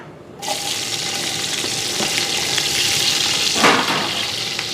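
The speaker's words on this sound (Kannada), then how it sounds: "ಸ್ವಲ್ಪ ಎಣ್ಣೆ ಹಾಕ್ಕೊಳ್ಳಿ ನೋಡಿ ಒಂದೆರಡು ಗಡ್ಡೆ ಈರುಳ್ಳಿ ಹಾಕ್ಕೊತಾ ಇದ್ದೀನಿ" Onions sizzling in hot oil in a pan for a mutton kaima curry, a steady bright hiss starting abruptly as they hit the oil, with a brief stirring scrape partway through.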